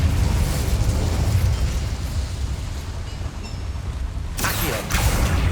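A fire spell is cast in the video game Hogwarts Legacy inside a small mine, producing a rumbling, fiery burst with crackling noise. A sharp, bright whoosh flares near the end, and the sound is moderately loud.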